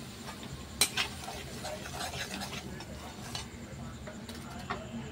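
Mustard oil sizzling with five-spice as flour is stirred into it, a soft steady crackle of frying with a few sharp utensil clicks against the pan, heard close and moderately quiet, no talking.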